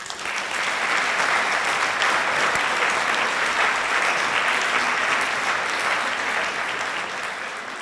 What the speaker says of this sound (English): ask everyone to give another big round of applause to our keynote speaker, Jean Lloyd Jones